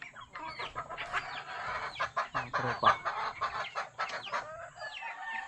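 Several chickens cluck and squawk close by in quick, irregular bursts, with someone briefly speaking over them.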